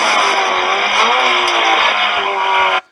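A race car howls through Turn 20 at Circuit of the Americas, its engine loud and close with a steady, sustained roar that shifts pitch slightly before cutting off abruptly near the end.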